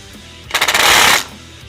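A power tool tightens a crash bar bolt on a Yamaha Bolt 950 motorcycle in a brief, loud burst of rapid impact rattling lasting under a second.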